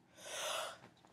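A person lets out a single big sneeze while playing the game Happy Wheels, one breathy, explosive burst that swells and fades within a second, close to the microphone.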